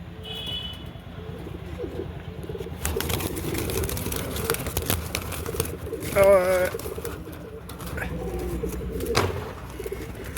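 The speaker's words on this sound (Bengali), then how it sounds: "এই একটা মাদি পায়রা," Pigeons, including a female, coo and call softly amid rustling, with someone talking over much of the sound.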